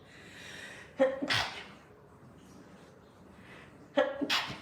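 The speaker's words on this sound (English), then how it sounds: "Oh my goodness, I'm going to sneeze." Two sharp sneezes, each preceded by a quick intake of breath, separated by a few seconds of quiet breathing.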